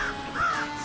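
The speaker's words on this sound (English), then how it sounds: "I think it's about time we saw what these crafty crows are truly capable of." Crows cawing in the video game Tearaway Unfolded, a couple of drawn-out harsh caws over a steady game soundscape.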